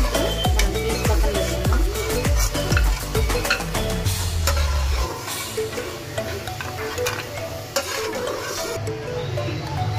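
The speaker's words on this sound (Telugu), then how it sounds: "లైట్గా బ్రౌన్ కలర్ వచ్చేంత వరకు ఫ్రై చేసుకుందాం." Bread pieces frying in a pan for bread halwa, a dense sizzle with repeated stirring scrapes and light clatter, busier early on and then settling into steady frying.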